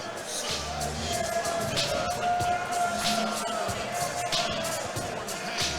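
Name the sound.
fight crowd cheering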